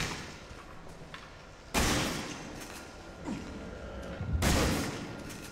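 Shotgun blasts from the survival horror game Resident Evil 7: Biohazard: two loud, sharp booming shots a few seconds apart over a quiet, murky background, each with a brief rumbling tail.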